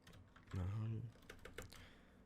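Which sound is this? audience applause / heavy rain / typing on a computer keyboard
typing on a computer keyboard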